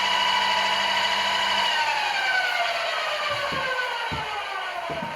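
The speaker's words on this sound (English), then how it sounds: "That's the brushless motor, by the way, which I expected to be quieter" A Wagner diaphragm paint sprayer's brushless motor runs loud and steady, with a bright whining hum and sweeping tonal shifts, plus a few soft knocks near the end.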